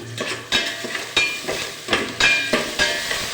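A spoon stirs frying onions and eggs, mixing potato, with a rhythmic series of scraping strokes about every half second over a steady, close sizzle.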